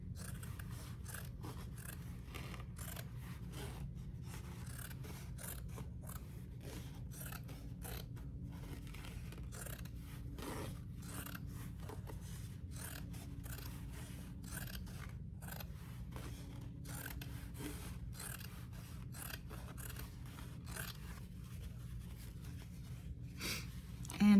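Scissors snipping through an old pair of denim jeans to make yarn, a long steady series of close, crisp cuts repeating at a brisk, regular rhythm over quiet room tone.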